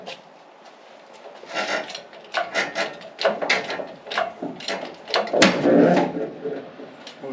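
A full-size truck's bed lift scrapes and rubs against the back while raising, a series of uneven creaks, knocks and grinding rubs building in loudness over several seconds.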